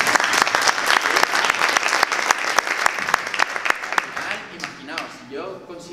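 An audience at a talk breaks into loud, sustained clapping that thins out toward the end as a voice begins speaking over it.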